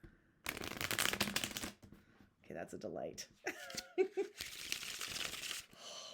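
A brand-new tarot deck gets riffle shuffled in a loud, dense burst of fluttering cards, followed by softer handling and a second riffle, while a person talks briefly in between.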